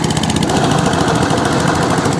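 Close, loud Atco Balmoral cylinder mower engine running steadily with a rapid rhythmic chatter and whirring of the engaged cutting cylinder beneath it.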